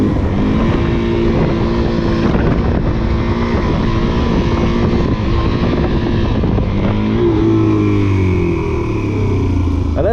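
A motorcycle engine revs hard during a wheelie, a loud, close, continuous roar that rises and falls in pitch with throttle changes, with wind buffeting the microphone and no talking.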